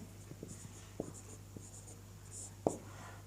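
Handwriting during a Sanskrit translation lesson, heard as faint scratching strokes and a few soft taps of a pen against a steady low background hum.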